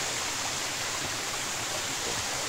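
Steady broadband rush of a waterfall at a camping spot by Hacıllı Waterfall, a constant close roar with no breaks and no voices.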